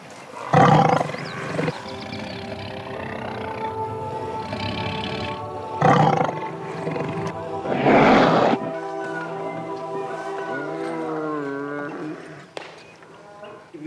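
A tiger roars several times in loud, rough bursts over a steady low hum, with a pause between the calls and a voice talking underneath.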